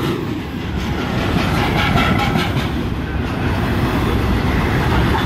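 A loaded coal train hauled by four diesel locomotives rumbles past at Berowra, a loud, steady, dense roar of wagons and wheels that stays close throughout, with no voices.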